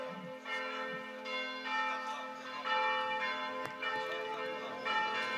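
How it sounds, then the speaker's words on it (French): Church bells of Romans-sur-Isère peal repeatedly in a steady, resonant rhythm at a moderate distance, ringing out over the open air during a pétanque final. "Et les cloches de Romans qui sont de la fête."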